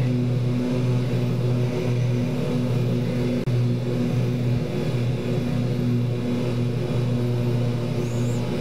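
A Super King Air B200 turboprop's engines drone steadily in a flight simulator, a loud, even hum with a constant tone and no voices.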